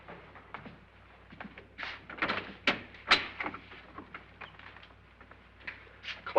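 Doors and cupboards in an old house are opened and shut one after another, a series of irregular knocks, latch clicks and creaks, some sharp and close, against a low steady hum with no talking.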